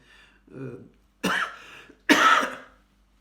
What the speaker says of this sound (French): Une toux qui reste depuis...